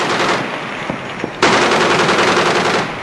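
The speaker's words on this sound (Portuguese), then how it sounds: "Metralhadoras ligeiras na popa, metralhadoras pesadas na proa" Rapid bursts of loud machine-gun fire from a Portuguese Navy ship rattle off in quick succession, a brief gap and then a longer sustained volley.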